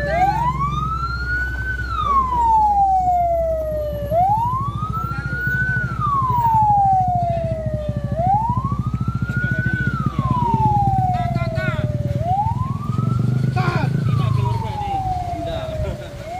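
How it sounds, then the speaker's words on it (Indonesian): A wailing ambulance siren rises and falls in slow regular sweeps at a roadside crash site on a steep incline, loud and close over rumbling engine noise and traffic. "Ini dikarenakan ada ambulan yang ingin lewat."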